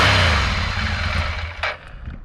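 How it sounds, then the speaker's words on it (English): A motorcycle engine just started and idling, a low steady rumble close by that dips near the end and picks back up, with no speech. "Now that the bike's running"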